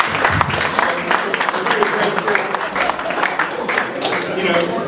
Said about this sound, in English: I think we should all clap to that